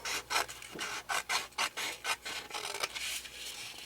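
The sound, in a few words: cutting paper for a handmade book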